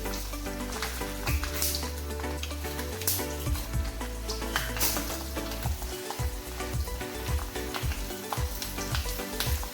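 Mustard seeds and dried chillies crackle and sizzle loudly in hot coconut oil, a dense spitting hiss with frequent sharp pops throughout.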